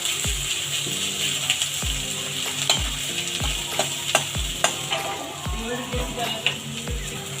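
Chickpeas frying with salt and turmeric in a pan, a steady sizzle broken by regular knocking thumps and scrapes of a spoon stirring against the metal.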